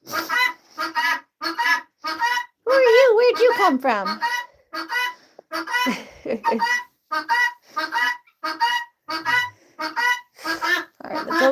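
Poultry calling in a backyard coop during feeding and animal care, a run of repeated honking, clucking calls close by, with a person talking over and between them.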